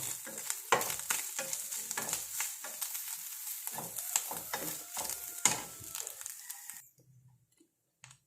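Grated coconut sizzles and fries in a pan while being stirred, with steady crackling and repeated scraping strokes for about seven seconds before the sound cuts off.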